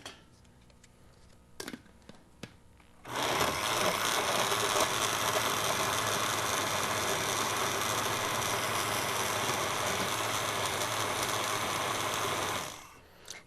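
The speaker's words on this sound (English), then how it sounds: "So you have to put the banana to your mixture. This will really make this sweet. Maybe 2 pieces. And then grind again." Following a few clicks, a kitchen grinder roars loudly and steadily for about nine seconds, blending banana into a high-fiber mixture, then cuts off.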